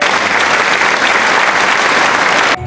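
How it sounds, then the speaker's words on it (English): An audience at a virtual talk show claps in a dense, loud burst of applause that holds steady, then cuts off abruptly near the end. "A big round of applause"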